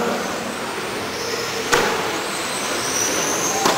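Carpet racing cars rush past at a distance during a race's A-final over a steady broadband roar, with two sharp whooshes as cars come down the straight.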